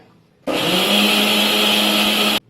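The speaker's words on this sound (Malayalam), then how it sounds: "ഇനി നമുക്കിത് അടിച്ചെടുക്കാം" A kitchen mixer grinder whirs loudly and steadily for about two seconds while it grinds grated coconut with turmeric powder and salt for a Kerala moru curry. The motor starts sharply after a brief quiet and cuts off abruptly.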